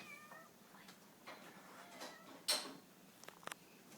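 A pet cat named Chi-Chi meows indoors in a kitchen, a short nearby cry at mid-clip followed by faint clicks and taps amid quiet room noise.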